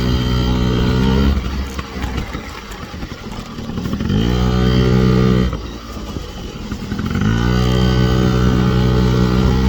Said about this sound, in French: on fait un peu de moto